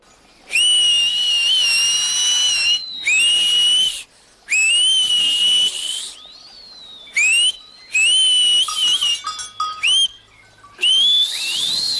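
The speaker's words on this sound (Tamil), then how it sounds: "என்னால சவுண்டா விசில் அடிக்க முடியும்" Loud, shrill whistling in an old animated Heidi cartoon: a series of sustained, wavering high whistles in bursts of one to three seconds, separated by brief silences, close and clear with no talking.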